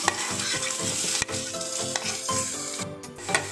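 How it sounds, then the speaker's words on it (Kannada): Onion, garlic and tomato sizzle steadily in a hot pan while a utensil stirs and scrapes through them in repeated strokes, close and loud with no talking. "ಬೆಳ್ಳುಳ್ಳಿ ಕಟ್ ಮಾಡಿ ಇಟ್ಕೊಂಡಂಥ ಟೊಮೊಟೊವನ್ನು ಸೇರಿಸ್ತಾ ಇದ್ದೀನಿ"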